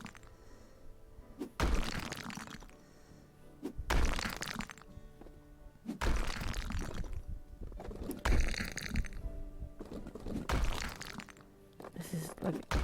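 Walls being smashed apart during demolition in House Flipper, a run of loud crashing, crumbling impacts in bursts, with a person talking in between.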